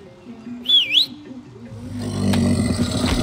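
A short rising and falling whistle in the video game Far Cry 6, clear and brief, followed by a rumbling vehicle-like noise and scraping in the game's background.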